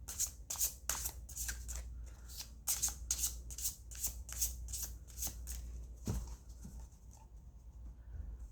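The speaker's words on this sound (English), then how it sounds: "This deck shuffles so well." A deck of cards being riffle-shuffled several times in quick succession, crisp fluttering bursts close up, followed by a few soft taps.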